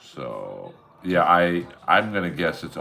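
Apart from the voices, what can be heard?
No everyday noises stand out.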